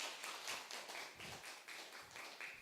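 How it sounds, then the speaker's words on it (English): A small conference audience gives faint, sparse clapping in uneven bursts, with a soft room tone in the background. "Please give a big applause for Mr."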